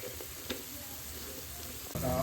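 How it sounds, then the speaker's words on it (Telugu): Garlic paste hits a pan of frying prawns, giving a soft continuous sizzle with a small tap and a louder burst of frying and stirring at the end. "ఇప్పుడు మనం గార్లిక్ పేస్ట్ వేసుకుందాం."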